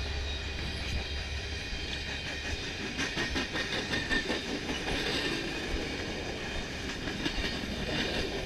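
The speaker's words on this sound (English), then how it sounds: "I'm gonna have to stop for that train" A train rolls past a crossing while a road cyclist waits, a steady broad rumble with clickety-clack wheel rhythm and hiss, loud and close throughout with no talk.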